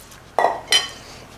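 Utensils toss a cauliflower salad dressed with anchovies and garlic, giving two short, close clinks about a third of a second apart, with quiet in between and after.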